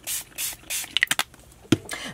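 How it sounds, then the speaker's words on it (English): Tattered Angels color mist in brown and green is sprayed over a Moroccan stencil in short hissing bursts, several quick sprays in a row with small clicks and taps of the bottle between them. "I'm going to spray it with a couple colors of Tattered Angels"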